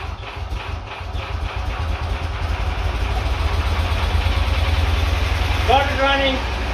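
A dune buggy engine runs at a steady low idle throughout, a rough continuous rumble close by, with a voice speaking briefly near the end.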